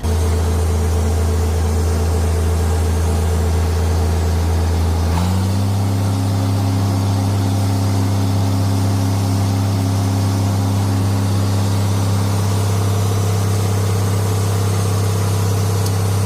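An International Farmall 826 tractor engine running loud and close, a steady deep idle that shifts to a slightly higher, even drone partway through and holds without a break.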